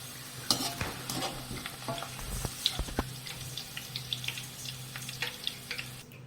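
Fried onions for mutton birista being stirred and lifted out of a pan of oil, with irregular scraping and clinking strokes over a soft background sizzle, near and fairly quiet, no talking.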